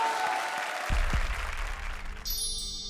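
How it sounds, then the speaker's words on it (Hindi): Studio audience applause on a TV comedy show stage, a full, sustained crowd clap joined by dramatic musical stings and a bright bell-like flourish near the end. "जोरदार तालियां"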